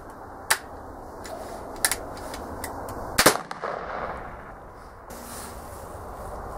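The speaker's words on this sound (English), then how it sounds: "Put a cap on her. And let her rip." A black powder muzzleloader rifle fires a single sharp, loud report that rings out briefly over steady outdoor background noise, with a few fainter clicks and pops before and after.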